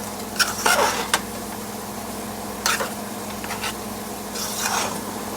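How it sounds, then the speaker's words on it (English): Dry rice stirred in a pan for a Spanish dish, a few scattered scraping and rustling strokes over a low steady background hum, close and without talk. "So you're going to give it a nice stir."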